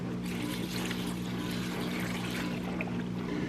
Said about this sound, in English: I also put my 2 cups of beef broth in there, but I'm gonna strain it in.